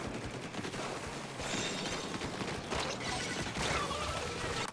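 Rapid bursts of gunfire from enemies shooting at the player in a video game fight, a dense crackling fusillade of overlapping shots running almost continuously at moderate loudness, with no speech.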